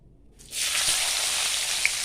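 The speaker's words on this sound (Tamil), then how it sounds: "பொரிஞ்சிருச்சு, நம்ம வெங்காயத்தை போட்டுக்கலாம்." Onions drop into hot oil in a pan, and a sudden, bright, steady sizzle starts and keeps going up close, with one small pop near the end and no talking.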